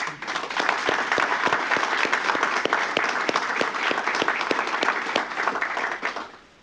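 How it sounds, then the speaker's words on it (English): A meeting audience at the State Transportation Board gives a round of applause to honour a colleague's recognition. The dense, loud clapping holds steady and then tapers off at the end. "give him a round of applause for his recognition"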